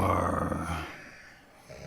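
A cartoon giant snores in a read-aloud animated children's story, with a deep, growling rumble in the first part of the clip that then trails off into quiet.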